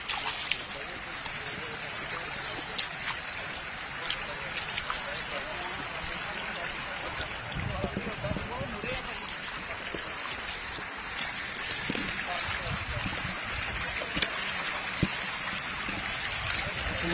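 Water runs in the Chitti Vein stream near Taragarh, Punjab, making a steady, continuous rush and trickle with faint voices underneath.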